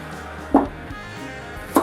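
Two sharp knife chops on a cutting board, spaced about a second apart, as carrots are cut for a cassoulet; close and crisp against a quiet kitchen background.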